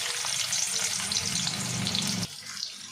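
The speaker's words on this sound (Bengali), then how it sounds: "সেদ্ধ করা আলুগুলো ভেজে নেব।" Boiled potatoes frying in mustard oil, a loud close hissing sizzle that holds steady, then drops to a quieter bubbling fry for the last moments.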